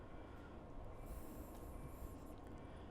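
Amtrak Piedmont passenger train in the Train Sim Classic game, a steady rumbling run with rolling wheel noise and a faint high squeal through the middle, heard alone at moderate level.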